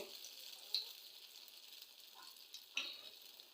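Hot oil sizzling in a pan, heated for frying chops made from ground lentils, rice and egg: a faint, steady hiss with a few soft pops and stirring clicks, quiet and continuous.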